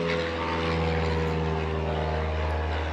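A propeller airplane drones steadily and loudly overhead, its engine hum continuous and unchanging throughout with no voices over it.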